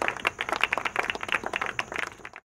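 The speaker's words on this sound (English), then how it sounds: "A big round of applause." Audience applause at a televised discussion programme: a dense, steady patter of many hands clapping for about two and a half seconds, fairly close and even, then cutting off abruptly.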